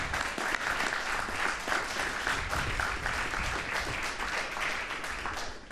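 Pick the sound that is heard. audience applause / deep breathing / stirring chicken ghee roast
audience applause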